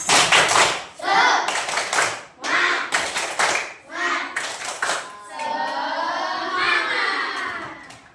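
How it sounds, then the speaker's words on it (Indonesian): A fourth-grade class claps out a rhythmic spirit chant together, sharp hand claps in bursts alternating with children's shouted voices, close and loud, ending in a longer sustained group call. "Yuk bareng-bareng yuk, tepuk semangat"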